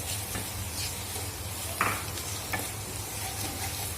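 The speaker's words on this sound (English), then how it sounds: "So I'll be adding some sugar little by little at a time and stir it well." Sugar being stirred into bottle gourd halwa in a pan, a continuous low sizzle with occasional scrapes and taps of the spoon against the pan.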